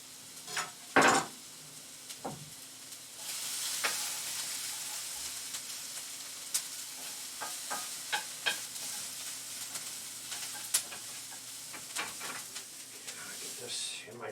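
Garlic fries in a pan, a soft steady sizzle broken by repeated clacks and scrapes of stirring, with a sharp knock near the start and occasional talk in the background.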